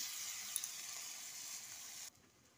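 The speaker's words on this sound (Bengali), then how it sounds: "তেল গরম হয়ে গেছে, এবারে এক এক করে আমি সব এর মধ্যে দিয়ে ভেজে নেব।" Fish sizzling in hot mustard oil in a home kitchen pan, two pieces at a time: a soft, steady hiss of frying that stops abruptly near the end, with no talking.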